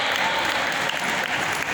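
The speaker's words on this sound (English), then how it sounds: "Give them a round of applause." A school audience of parents and students applauding, a dense, steady wash of clapping from many hands that holds at full strength throughout.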